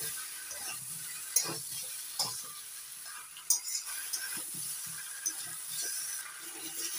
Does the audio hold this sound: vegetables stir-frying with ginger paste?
yes